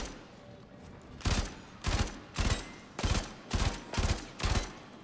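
Player firing a gun in Warframe: seven evenly spaced loud shots, each a sharp blast with a short tail, close up over a low background.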